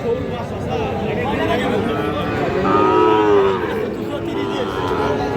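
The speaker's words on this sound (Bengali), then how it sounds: "আমরা এই যে এখানেও একটা মাশাআল্লাহ বেশ সুন্দর সাইজের গরু দেখতেছি" Cattle at a busy livestock market, a Sahiwal bull calf among them, give a loud, drawn-out moo near the middle, over steady crowd hubbub and talking people.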